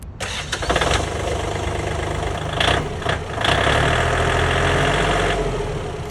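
A 1.3-liter three-cylinder diesel engine of a Kubota L1-185 mini tractor cranks and catches, then settles into a steady, loud, rumbling idle with some mechanical clatter, heard up close with no talking.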